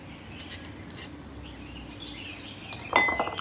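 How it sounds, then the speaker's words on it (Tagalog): Utensils mixing an instant jellyfish salad in a bowl give soft scraping and light clinks, quiet at first, then a sharper cluster of metallic chinks near the end, with no talking. "Dito lang muna natin ihalo. Paghaluin."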